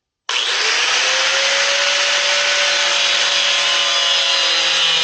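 A power tool grinds through a brake cable on a 1958 Allstate Vespa VNA 125cc scooter, throwing sparks, a loud, steady, high-pitched abrasive whine that starts abruptly and holds continuously without pause, up close.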